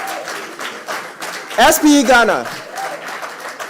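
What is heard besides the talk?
audience applause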